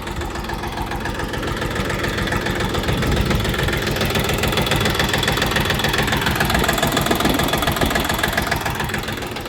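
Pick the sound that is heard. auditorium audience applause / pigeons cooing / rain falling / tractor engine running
tractor engine running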